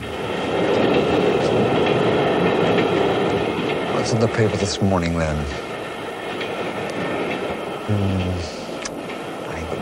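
A non-stop commuter train running from Potsdam into Berlin rumbles and clatters steadily throughout, with wheel clicks and squeals rising midway, while two people converse over the noise.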